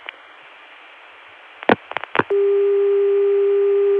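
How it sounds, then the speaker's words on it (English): A 1981 CCSA telephone line reached through 454 access: faint line hiss, a few sharp clicks and pulses, then a loud steady dial tone starting and holding to the end. "Now, the same dial tone can be gotten through 454,"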